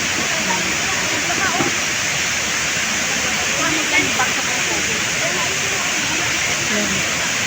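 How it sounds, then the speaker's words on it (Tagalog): Heavy rain pours down strongly during a storm, a dense, steady roar of falling water close by with faint voices murmuring underneath. "Ang lakas bumagsak ng tubig."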